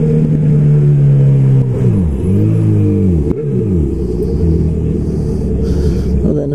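A Hornet 250 cc motorcycle engine revs hard in street traffic, its loud rumbling note rising and falling through several throttle blips in a continuous roar close by.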